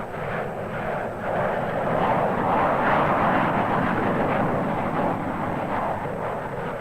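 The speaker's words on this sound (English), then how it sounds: "These F-84s have a maximum speed of 600 miles per hour." F-84 Thunderjet fighter jets fly past with a broad, continuous roar that swells to a peak midway and eases slightly, sounding fairly close and loud with no voices.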